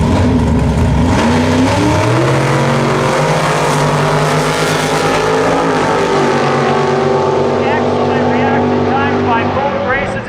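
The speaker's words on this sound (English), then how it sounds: "Advantage to Bolt, but Phil Walters wins the race and takes Bad Billy Old." Drag racing cars launch and scream down the strip at a Kelowna drag racing event, a loud, close engine roar climbing in pitch as they accelerate, with announcer-style voices and crowd noise mixed underneath.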